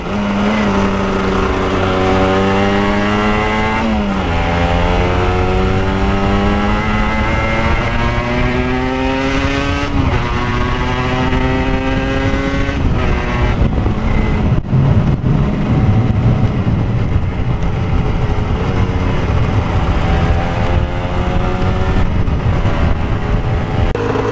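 An Aprilia RS 125 motorcycle engine revs and accelerates through repeated gear changes, its high buzzing two-stroke whine climbing in pitch, dropping briefly and climbing again over a steady roar, close and loud without talk.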